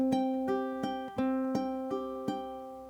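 A single measure of fingerpicked ukulele in even straight eighth notes, each plucked note ringing out cleanly and close in a calm, regular pulse.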